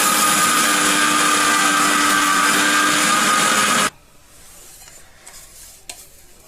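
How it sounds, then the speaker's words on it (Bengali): An electric mixer grinder roars loudly and steadily as it grinds roasted sesame seeds with rice, then cuts off abruptly, leaving quiet room noise with a few faint knocks. "তিলটা আবার মিক্সচারে গুঁড়ো করে নেব একটু।"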